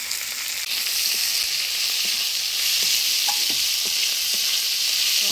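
Dried fish fries in a pan with onion, green chili and crushed garlic, giving a loud, steady sizzle with a few scattered taps and scrapes from stirring, close and without any talk.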